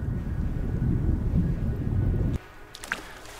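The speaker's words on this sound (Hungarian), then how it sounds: "Hogy miért fúj a szél a víz alatt" A steady roar of wind blows underwater in the video game Starsand, loud and broad for about two seconds, then it drops away to a quieter background with faint clicks.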